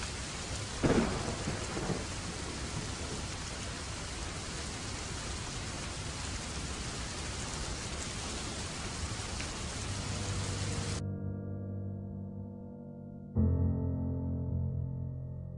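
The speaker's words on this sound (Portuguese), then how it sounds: "nessa tempestade maravilhosa" Heavy thunderstorm with steady loud rain and a near crack of thunder early on, a dense wash of rainfall that drops away near the end before a final low rumble.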